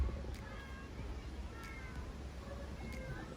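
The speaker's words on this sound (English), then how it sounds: "Oh, look, we got a stray kitty here." A stray cat meows faintly and repeatedly in an outdoor setting, three soft evenly spaced cries over low background rumble.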